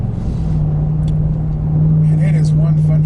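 A 2017 Ram 1500 pickup's engine rumbles steadily and then swells louder as the truck is floored while towing a toy hauler trailer, a close continuous drone with someone talking over it.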